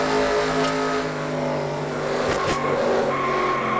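Race cars at Daytona in an ARCA Series racing game, engines droning loudly while tires squeal and a brief sharp impact sounds midway through the wreck.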